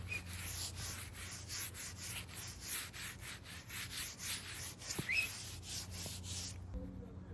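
Wax being rubbed onto a skateboard curb ledge, a rhythmic run of scraping rubbing strokes, close and moderately loud, repeating steadily for several seconds before stopping.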